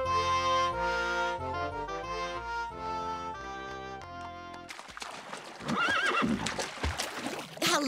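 Music plays in a cartoon, then gives way to a loud horse whinny rising and falling, with some hoof clatter and rustling, no talking.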